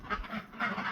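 Farm ducks quacking inside a barn, two close bursts of nasal quacks in quick succession, no voices.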